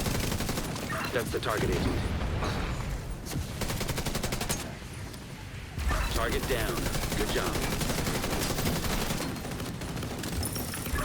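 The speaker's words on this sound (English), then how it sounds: "The full automatic chem launcher." A full automatic chem launcher fires in a video game in rapid bursts of thudding shots and blasts, loud and near, broken by a short lull while voices talk over the gunfire.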